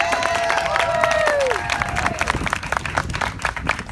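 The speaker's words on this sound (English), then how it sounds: "Let's give it one more round of applause to our terrific speakers who came before me." An audience at a Show Up For Science rally claps and cheers, with a sliding whistle over the start, then scattered claps thin out toward the end; some crowd voices mix in.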